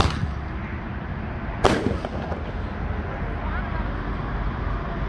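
A 1.75-inch eight-shot Roman candle fires one loud, sharp report near the start, followed by a few fainter pops over a steady outdoor rumble.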